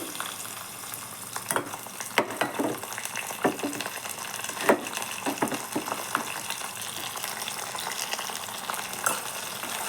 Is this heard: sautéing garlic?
yes